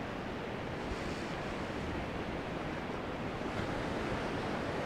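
Continuous rushing surf along the Black Sea shore at Vityazevo, broad and steady, with waves washing in close and some wind noise over the microphone.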